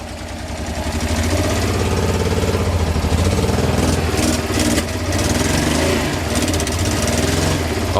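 A Honda 600 Transalp motorcycle engine restarts and runs steadily, a loud close continuous mid-pitched engine drone with a slightly rough idle that holds for the whole stretch, with no voices over it.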